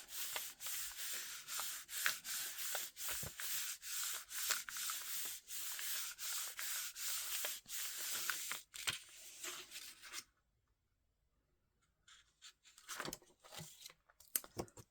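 A bone folder or tool rubs firmly along the crease of a folded paper card base, a rapid rhythmic scraping run that stops abruptly, then a few softer rubbing strokes resume after a short pause.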